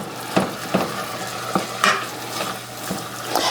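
Ground meat for a keto Italian meat dish browns in a pan under a steady background sizzle, with a spatula scraping and tapping at irregular intervals.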